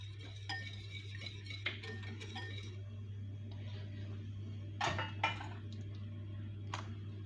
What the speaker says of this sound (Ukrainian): додаю наше розтоплене масло. Також я це розмішаю.